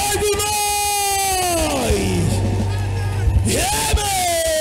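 A church congregation at a French-language service shouts and cheers together in a sustained, loud wave of voices, with a preacher's sung or drawn-out voice rising and falling over the crowd.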